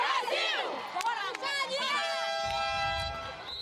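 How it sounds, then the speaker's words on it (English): Arena crowd at a 2012 London Paralympic wheelchair basketball match between Canada and Brazil in North Greenwich Arena, cheering and shouting steadily, with whistle-like tones and a sustained horn near the end. "So the crowd really getting into it at North Greenwich Arena."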